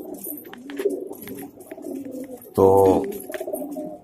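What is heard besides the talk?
pigeons cooing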